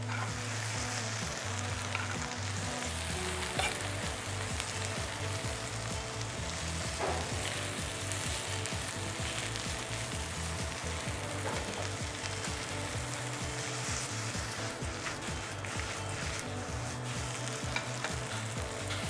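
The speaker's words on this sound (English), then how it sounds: "Once you can start tossing it like that, that means it's almost done" Vegetables seasoned with salt and pepper sizzle and fry in a pan, with a steady, loud hiss running throughout and scattered clattering as they are tossed and stirred.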